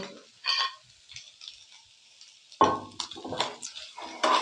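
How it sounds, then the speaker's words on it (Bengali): Ground turmeric, Kashmiri chilli powder, cumin and salt frying in a pan for egg masala Maggi, with intermittent scraping and stirring clinks of a spoon against metal, quiet stretches between, close and fairly soft. "এবার এগুলোকে আরও এক মিনিট ধরে একটু ভেজে নেব"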